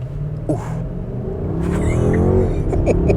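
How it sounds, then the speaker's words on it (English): A 2021 Mercedes-Benz S-Class accelerates hard from a standstill, its engine rising from a low rumble into a climbing, steady roar heard from inside the cabin. "I'm just gonna floor it from a stop."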